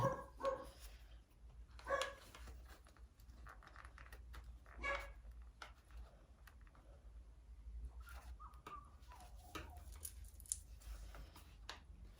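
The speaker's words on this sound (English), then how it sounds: "My dog barking, sorry about that." A dog barks a few scattered times in the background during a handbag sewing session, with close snips and clicks of scissors and handling of materials between the barks.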